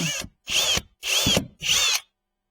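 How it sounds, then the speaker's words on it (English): A power drill whirs in three short bursts separated by brief pauses, close and loud, with a rising whine as each pilot hole is bored into a kayak. "we'll drill us a pilot right there"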